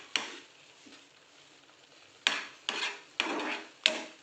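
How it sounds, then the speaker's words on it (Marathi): A spoon stirs ghee-rich semolina sheera in a pan, giving soft scraping strokes: one early scrape, a pause, then four rhythmic scrapes close together, fairly quiet and with no talking. "सारखं हलवत राहायचं आहे"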